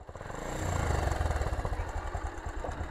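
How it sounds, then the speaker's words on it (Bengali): A motorcycle engine revs up, then settles into a steady pulsing chug as the bike pulls away in first gear, close and fairly loud with no talk. "এখন তুমি আবার স্টার্ট দিবে বাইকটা নর্মালি নিজে থেকে।"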